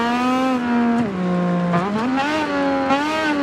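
Motorbike engine revving in a MotoGP-style racing video game at the Red Bull Ring, a loud, steady high-pitched whine that dips and climbs through several rev changes across the whole stretch.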